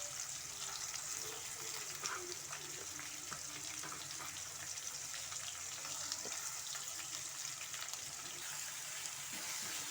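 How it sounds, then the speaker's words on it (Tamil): Sliced large onions fry in a pan for an onion thokku side dish, giving a steady, even sizzle throughout with faint scattered crackles and no talk. "வெங்காயம் நல்லா வதங்கட்டும்."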